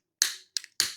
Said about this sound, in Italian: adesso lo vado a tagliare e poi con un accendino